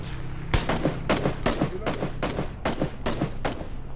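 A rapid string of rifle gunshots in PUBG, about eight sharp evenly spaced cracks over a steady low background hum, loud and close with no talking.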